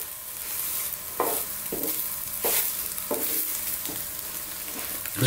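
An omelette pav egg sandwich sizzles in a hot pan with a steady frying hiss, broken by several scraping or pressing sounds at regular intervals, close and fairly loud, with no talk.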